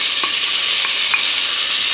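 Smoked meat, Moravian smoked pork among it, is stirred into fried onions in a hot pan for homemade sauerkraut. A dense, loud sizzle carries three or four short utensil scrapes, and no voice is heard.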